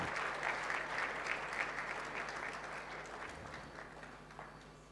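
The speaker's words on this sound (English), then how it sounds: "a round of applause for Madam." Audience applause at an Afreximbank roadshow event in Jamaica, a steady wash of clapping held for about five seconds and slowly easing off toward the end.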